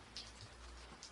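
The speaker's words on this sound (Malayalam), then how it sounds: "പുറത്ത് മഴ പെയ്യുകയാണ്." Rain falling outside a tiled-roof house at night, a faint steady patter with occasional louder drops, soft and continuous throughout.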